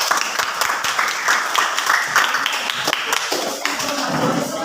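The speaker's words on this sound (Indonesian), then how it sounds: "Ya, tepuk tangan." A classroom audience claps after a group presentation, a dense burst of many hands applauding steadily throughout, close and fairly loud, with no talk over it.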